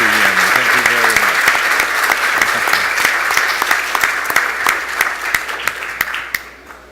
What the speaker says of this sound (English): I want to ask all of you for a big applause for Anna, for Duan, and of course for Tuyeni